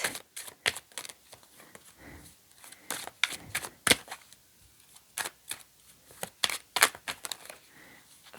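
Tarot cards being shuffled by hand in a sequence of quick, crisp riffling bursts and slaps, with short pauses between them and faint quiet handling noise.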